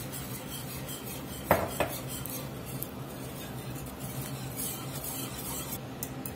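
A utensil scrapes and clinks against a pan while roux gravy is stirred for chicken fried steak, with a sharp knock early on and a steady soft scraping under a constant sizzle, close and without talk.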